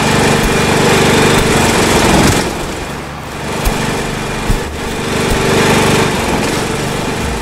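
A small engine drones in Death Tractor, a tractor game, buzzing loudly and steadily with a brief dip in the middle and a couple of knocks, with no voices.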